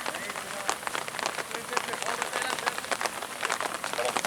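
Rain falls steadily on a surface during an amateur third-division league football match, a continuous hiss with scattered drop patter, while people talk over it.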